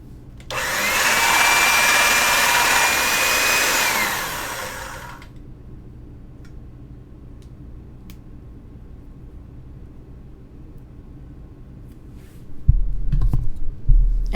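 Polymer clay cane being fed through a pasta machine, a loud broad whirring roll lasting about five seconds with a faint rising tone, then near silence with a few soft knocks and handling bumps at the end.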